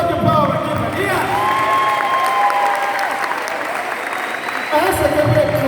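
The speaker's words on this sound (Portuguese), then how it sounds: "uma salva de palmas aqui pra mim" Applause rises from a congregation at a Catholic prayer group seminary gathering, mixed with voices talking and calling out over the clapping throughout.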